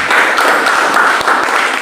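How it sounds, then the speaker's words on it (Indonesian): A church congregation at a worship service in Jakarta applauds steadily, a dense, continuous wash of many hands clapping that fills the hall. "Tepuk tangan bagi Tuhan kita."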